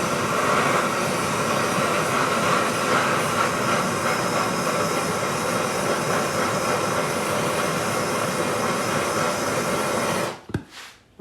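A 2024 Year of the Dragon Asahi silver round, made into a coin ring, being heated, giving a loud steady hiss that holds for about ten seconds before cutting off abruptly with a few brief clatters.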